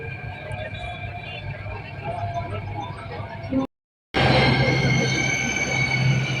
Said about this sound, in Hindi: गाइस यहाँ पे मेट्रो आ गई है